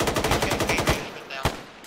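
Rapid automatic gunfire in the military game Arma, a fast rhythmic string of close, loud shots that thins into scattered single cracks.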